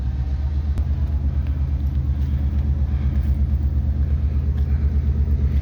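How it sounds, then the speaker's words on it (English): A diesel engine rumbles steadily as a short train of cars is pulled out for dumping, a continuous low throbbing drone close by with a faint click near the start. "we're pulling the short train out, and we're going to dump it"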